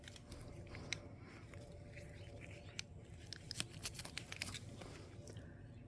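A blade cutting through a calla lily rhizome, faint crisp snipping and crunching clicks scattered over a quiet close background.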